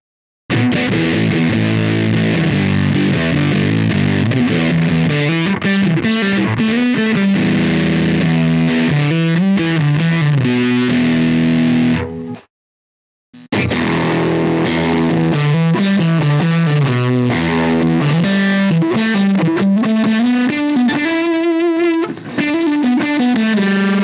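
Electric guitar played through a Ross fuzz pedal, thick and buzzy, riffing continuously with a brief pause midway, loud and up front.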